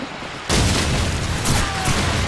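Burst of AK rifle fire in Call of Duty 4 ProMod, a sudden loud broadband blast that starts partway in and keeps rattling, with close, continuous shots layered over game ambience.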